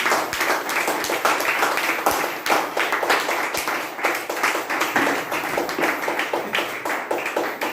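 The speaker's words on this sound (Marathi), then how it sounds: "आपण जोरात टाळ्या वाजवून" A church congregation at a Friday healing service claps loudly, a dense, steady patter of many hands that stays unbroken and close for the whole stretch.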